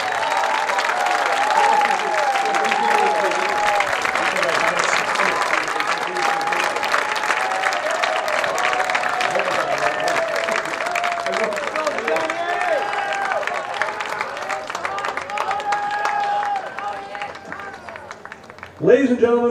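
A large crowd applauds award winners at a lacrosse all-star game event, sustained clapping filling the hall for most of the stretch before it fades and a voice begins.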